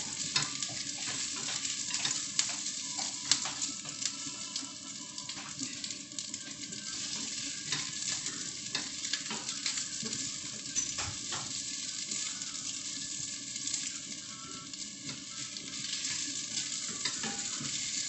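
Chicken breast deep-frying in hot oil gives off a steady, close sizzle that runs throughout, with small crackles, pops and occasional clinks of utensils.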